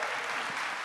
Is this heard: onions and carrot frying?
no